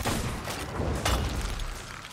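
Heavy cannon booms from a ship battle in Sea of Thieves, a loud broadband blast rolling into a dense low rumble with a second burst around midway, with no talk over it.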